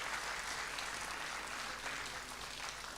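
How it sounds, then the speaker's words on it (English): An audience at a Salangai Pooja dance event claps steadily for the parents, dense continuous applause throughout with no voices. "Please give them a big round of applause to these beautiful parents."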